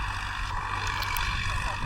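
A tractor drags a cultivator built by Siddhu Pawti through soil at full working depth, giving a steady, loud engine drone with a low rumble that holds evenly throughout.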